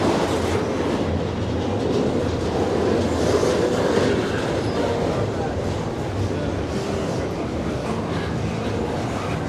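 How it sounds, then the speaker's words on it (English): A freight train rolls past a station platform, a loud, continuous rumble and roar with faint rhythmic clatter of wheels, sustained and close for the whole stretch without a break. "this freight train's going by."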